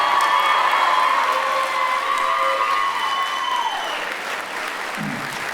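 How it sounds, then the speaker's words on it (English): Applause from a school concert audience for a high school pipe band, a dense steady clatter of clapping mixed with a few cheers, loud and close throughout before thinning slightly near the end. "a round of applause for the Shadow Park High School Pipe"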